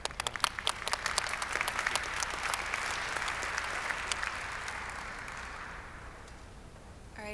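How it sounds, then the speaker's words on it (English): Audience at a computer vision conference oral session applauding, a dense sustained clapping that stays steady for several seconds and then fades out toward the end. "let's give it a round of applause."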